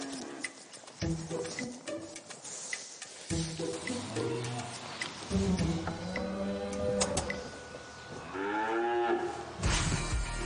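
Cows mooing on a farm, several long drawn-out lowing calls, close and fairly loud, with scattered clicks and farmyard noise between them.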